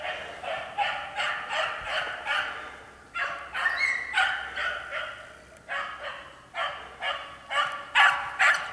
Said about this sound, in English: I'm sure Java's barking, but it's just hard to tell.